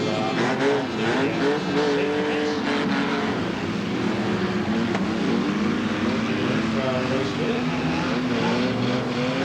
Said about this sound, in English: The green flags here, the race is underway.